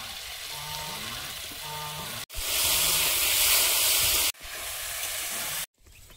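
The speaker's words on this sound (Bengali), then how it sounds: "আর আলু ভাজা হচ্ছে" Potatoes frying in a pan with cumin, turmeric and salt make a continuous hissing sizzle that surges louder midway and is broken by a few abrupt cuts.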